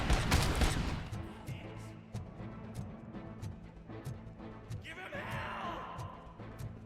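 Rapid gunfire from RoboCop: Rogue City, a video game, with a dense burst at the start and then repeated shots under game music and effects, fairly loud throughout.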